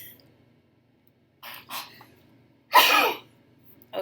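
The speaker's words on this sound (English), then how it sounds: "I did not mean to sneeze right there." A single person's sneeze, loud and close, a sharp burst preceded by a couple of short quieter breaths, then quiet.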